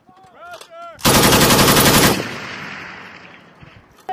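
Live-fire training with M2 .50 cal, M249 SAW and M240 machine guns: after brief shouting, one loud, sustained automatic burst of about a second rings out close by, then echoes away outdoors.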